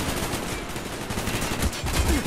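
Rapid gunfire in Call of Duty: Black Ops, a dense, continuous burst of shots with heavier low thumps near the end, sounding close and loud throughout.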